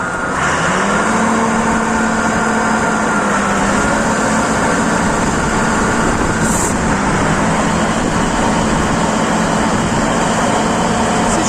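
The large diesel engine of a John Deere 1065 combine harvester turns over and settles into a steady, loud, rumbling idle that continues throughout, with no talking.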